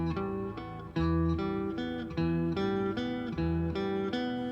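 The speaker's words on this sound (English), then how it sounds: "this is the minor. The minor sounds gentler, doesn't it?" A minor chord on guitar, its three notes picked in a repeating pattern, sustained and resonant, close-miked and heard alone.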